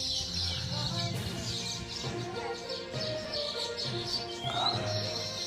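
Many small birds chirp and tweet continuously around their self-built nests, a dense busy chorus of overlapping calls at moderate distance, with no talking.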